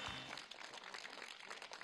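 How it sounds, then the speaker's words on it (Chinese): Faint studio audience applause on a television dating show stage, a steady wash of many hands clapping through the whole stretch without rising or falling much. "那我们先掌声欢送一下我们的一号和三号的"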